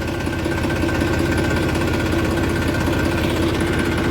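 A tractor engine idles close by on a farm field, with a loud, steady, low mechanical chug and vibration and no talk over it.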